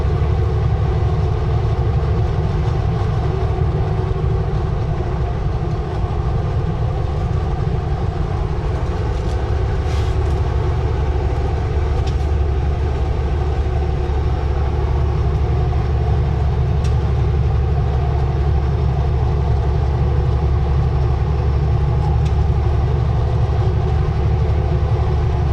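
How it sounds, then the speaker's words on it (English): Wind buffets a truck driving the Crowsnest Highway on a stormy evening, a loud, steady roar and rumble from inside the cab that holds constant throughout. "Getting lots of wind noise."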